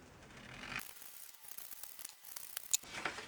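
Scissors snipping paper into three long strips for a kids' keychain craft, with a series of soft, close crisp cuts and rustles at a quiet level.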